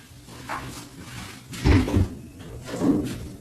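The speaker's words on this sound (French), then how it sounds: "je reviens vite fait, j'ouvre la porte au chat" A house door being opened to let a cat in, heard as a few close wooden clunks and rattles with a soft scrape between them, indoors and without talk.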